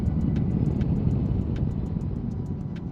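A 2025 Yamaha Tracer 9 motorcycle fitted with a quickshifter, ridden with a steady loud engine rumble and wind roar close up, with faint repeating ticks over the drone.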